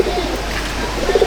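Old-line Jed Spring pigeons, Bangladeshi Kalshira breed, in a loft; soft low cooing close by, a few brief murmurs over a steady hum.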